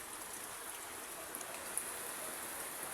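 Rain falls steadily into water tanks and drums, a soft, even hiss throughout with a few faint drips and no voices.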